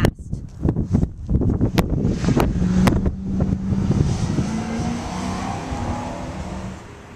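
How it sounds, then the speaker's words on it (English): Propane-fueled Ford Crown Victoria police interceptor, a hybrid propane conversion, pulling away, a rising engine roar after a few sharp clicks, fading as it moves off, with wind buffeting the microphone. "Hey Charles, we just saw you take off in our propane ground vic."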